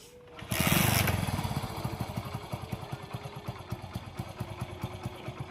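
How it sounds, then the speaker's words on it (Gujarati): A motorbike engine starts with a brief loud burst, then settles into a steady, close, low putt-putt idle with a regular pulsing rhythm, no talking over it. "તું બાઈક ચલાવ"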